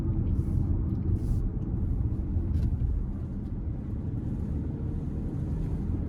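A 2024 Hyundai Tucson XRT AWD with the 2.5 engine in sport mode, heard from inside the cabin as a steady, loud low rumble that holds evenly throughout with no talking.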